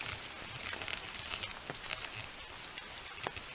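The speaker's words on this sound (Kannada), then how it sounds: "ಮಳೆ ಮಳೆ" Steady rain falling outdoors during a walking pilgrimage to temples, a dense hiss of drops pattering on surfaces throughout with a few sharper splashes, continuous and fairly close.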